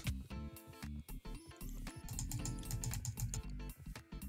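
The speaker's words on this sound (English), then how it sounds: "Aggressive clicking noises." A computer keyboard is hammered in fast, aggressive bursts, dense clacking keystrokes with brief pauses between flurries, loud and close with no talking.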